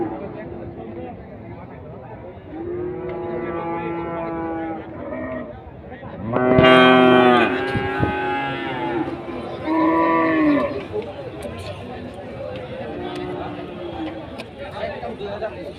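Several cows moo loudly at close range at a busy cattle market, over a steady murmur of crowd chatter and voices, the calls coming in separate drawn-out bursts.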